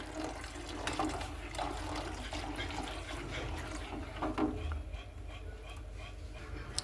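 Water is poured into sorghum flour while it is stirred, giving a steady trickling and splashing that runs throughout against faint background noise.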